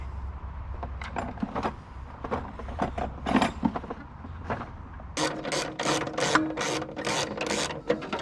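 A ratchet wrench loosens bolts on a 1951 Willys CJ3A Jeep, first with scattered clicks and clanks, then a quick, steady run of close, crisp ratcheting clicks.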